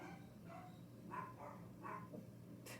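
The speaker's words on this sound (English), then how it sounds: "All I can hear is the dogs barking." Dogs bark a few times at a distance, short faint yaps spaced out over a low background hum.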